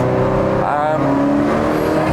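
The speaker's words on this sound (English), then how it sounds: "It does have a dump valve, which you can hear, as I shall now demonstrate." A Ferrari F40's turbocharged engine revs, then a dump valve releases with a brief whooshing hiss before the engine settles back into a steady drone.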